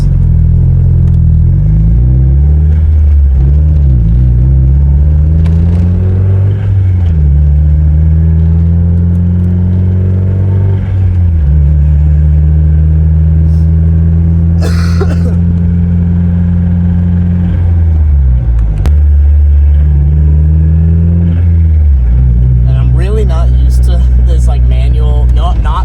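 A cheap, worn Mazda Miata engine idles at about 900 RPM with rod knock, a loud, close, steady low drone whose pitch shifts now and then, with a person talking over it.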